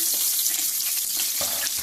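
Onion, crushed cardamom and ginger frying in hot oil for a Kuwaiti fish machboos, a steady close crackling sizzle with light stirring scrapes throughout and no talk.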